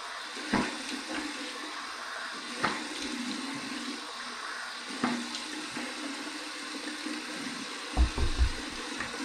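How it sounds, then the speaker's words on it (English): Warm tap water running steadily into a sink for a post-shave rinse, with quiet splashing and a few louder splashes near the end as water is scooped onto the face. "Here's my warm water rinse."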